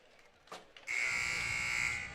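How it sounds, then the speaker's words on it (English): A loud, steady basketball game buzzer blares for over a second at the end of a timeout, a single sustained tone after a couple of brief knocks. "So there's the buzzer."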